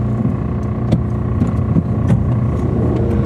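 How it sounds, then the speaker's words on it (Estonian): Car engine making a strange noise while driving, a loud continuous low rumble with irregular knocks and clicks scattered through it, no voices. "Kuule, mis häält see auto teeb?"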